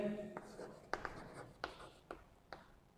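A pen scratches across paper as a maths solution is written out, producing soft strokes and several sharper taps under a teacher's talk.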